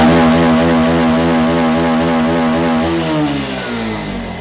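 Bajaj Pulsar 150 BS6 motorcycle, which has a battery charging fault, revs steadily and loudly up close, holding high revs before the engine note slowly sags and falls back.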